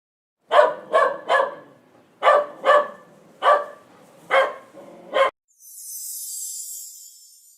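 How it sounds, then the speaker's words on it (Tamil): A dog barks eight sharp times in quick bunches, close and clear, followed by a soft airy whoosh. "நாய், நாய்,"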